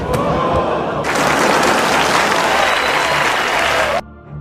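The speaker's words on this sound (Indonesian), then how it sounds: "penonton yang mengira itu semua hanyalah sebuah akting kemudian bersorak" Audience at a stage play bursts into loud applause and cheering that begins abruptly, holds as dense, steady clapping for about three seconds, then cuts off, with fainter crowd murmur on either side.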